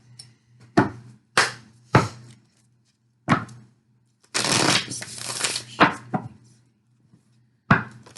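A deck of tarot cards is shuffled in a quiet room, with several sharp riffling bursts separated by pauses and one longer run of riffling partway through.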